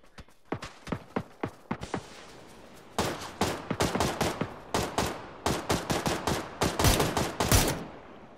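Gunfire in a shooter video game: sharp single shots in an irregular rhythm, then dense rapid bursts of automatic fire, loud and close, with no talk over them.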